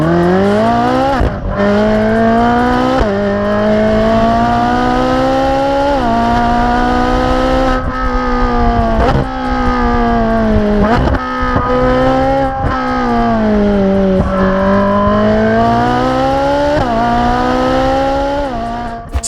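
A high-revving Ferrari Speciale engine screams up through the gears on a canyon road, pitch climbing and dropping with each shift, loud and continuous from inside the car.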